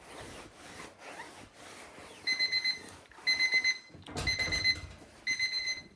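A kitchen timer's alarm goes off after 15 minutes, sounding in four bursts of rapid high beeping, each with short pauses between, over soft rubbing and shuffling noises from laundry or ironing work.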